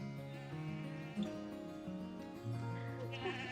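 Goats bleat in a farm setting, with several overlapping, sustained, wavering cries that fill the clip close and loud, with no pause between them.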